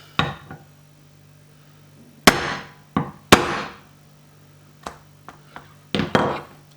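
Several sharp hammer blows strike a leather laptop stand cover at a workbench, arriving as isolated hard knocks at irregular intervals, close and crisp, with a few softer taps between them.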